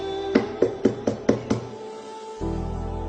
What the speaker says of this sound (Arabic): يوم اللي يندق بابك هيك